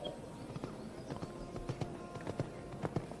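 Hooves of a show-jumping horse sired by Balu de Rue at the Longines Grand Prix of Sopot, Poland, 2023, thud in a quick, uneven rhythm over a steady wash of arena noise.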